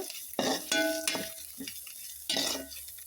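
Fried eggs are stirred into masala in a pan, with bursts of scraping and clattering spoon strokes against the pan over a light sizzle, close and intermittent.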